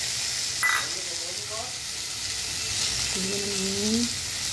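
Potato, pointed gourd, papaya and tomato fry in a pan with ginger, cumin and green chilli paste, giving a steady close sizzle throughout, with a brief clatter early on and a voice speaking over it.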